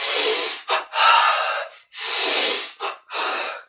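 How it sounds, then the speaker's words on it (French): Loud, close breaths in a yoga breathing exercise, with a double inhalation of one short sniff followed by a longer drawn breath, repeated in a clear rhythm. "Attendu devant, double inspire."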